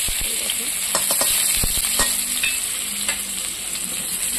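Chopped onion sizzles and fries in hot oil with cumin seeds, a steady close bright crackle with occasional stirring clicks of a utensil against the pan.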